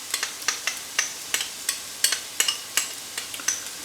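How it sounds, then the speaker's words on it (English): Ginger garlic paste mixed into tomato paste and stirred in a hot pan for a British Indian restaurant-style chicken balti, with a steady, regular scrape about every third of a second over a soft, constant sizzle, close and loud. "So once you've mixed the ginger garlic paste into the tomato paste, just straight in."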